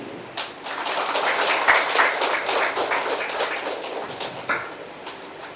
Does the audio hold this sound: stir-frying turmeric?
no